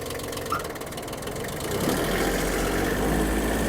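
A Kubota mini tractor's small engine runs steadily with a low rumbling chug, growing slightly louder and rougher partway through, close by with no voices.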